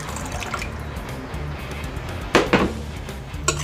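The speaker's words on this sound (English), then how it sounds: "I'm gonna add a little bit more of that water now." Water is poured into a simmering pork cacoila sauce for a Portuguese spicy pork sandwich, a soft liquid trickle with a couple of brief splashy bursts over low kitchen background noise.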